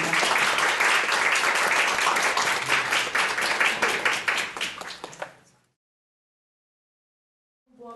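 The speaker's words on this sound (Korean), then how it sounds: "큰 박수 부탁드리겠습니다" An audience at a Korean academic seminar applauds a presentation with a dense, steady burst of clapping that lasts about five seconds, then cuts off into silence.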